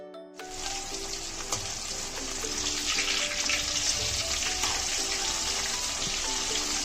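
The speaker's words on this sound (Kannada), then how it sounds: "ಬಾಣಲೆಯಲ್ಲಿ ಎಣ್ಣೆಯನ್ನು ತೆಗೆದುಕೊಂಡು ನುಗ್ಗೆಕಾಯಿಯನ್ನು ಹಾಕಿ 5 ರಿಂದ 6 ನಿಮಿಷ ಚೆನ್ನಾಗಿ ಕಾಯಿಸಿ." Drumstick pods frying in oil in a pan give a steady, loud, close sizzle, with faint clinks of a utensil against the pan now and then and no voices.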